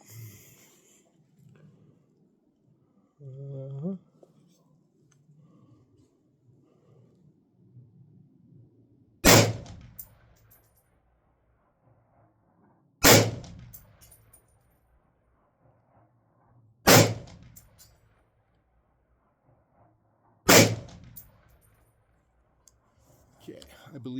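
Four rifle shots at a shooting range ring out one at a time several seconds apart, each a loud sharp crack with a short decay over quiet background.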